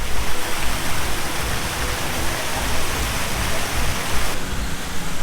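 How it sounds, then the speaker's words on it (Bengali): Artificial waterfall at a water park in Dhaka, a loud, continuous hiss and splash of falling water close up, steady throughout with no talking. "এখানে একটা কৃত্রিম ঝর্ণা আছে"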